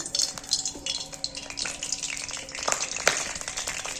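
A little water hits hot oil in a kadai before raw hilsa fish is steamed in it, giving a busy crackling sizzle with scattered pops and spits, close and continuous.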